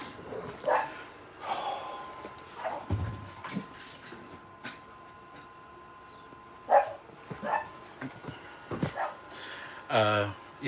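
A dog gives scattered barks and yips at irregular intervals, some faint and some louder, with quiet stretches and light background noise in between.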